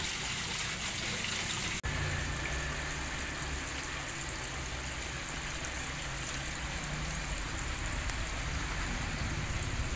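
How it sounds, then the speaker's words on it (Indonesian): Water pours and splashes steadily from a plastic drum into a koi pond, a continuous close gushing sound that fills the whole stretch without pause. "airnya keluar dari tutup drum plastik ini sehingga air mengalir ke kolam kedua"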